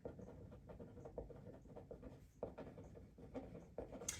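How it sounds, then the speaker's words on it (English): A title is written by hand at close range, faint scratchy pen or marker strokes in a steady irregular rhythm, quiet and alone. "Let me write your title really quick"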